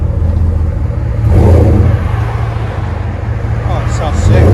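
A Dodge Ram with a 5.7L HEMI V8 idles through an aftermarket exhaust, a deep, loud, steady rumble close by with slight swells in level.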